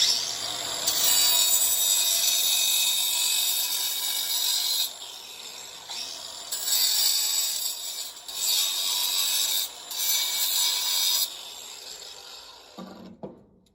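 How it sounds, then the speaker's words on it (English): An angle grinder cleans up the edge of a circle cut in tile, its high whine running loud and steady in several long bursts with short dips between passes, then cutting off near the end. "you can come back in with the grinder and clean up the edge"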